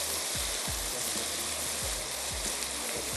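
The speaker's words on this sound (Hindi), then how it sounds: "आपने ले लेनी है एक अदद दरमियाने साइज़ की प्याज और उसको सुर्ख कर लीजिए" A medium-sized onion frying until browned in a home kitchen pan for a chicken qeema curry, with a steady, loud broadband sizzle throughout, broken by a few low thuds of stirring.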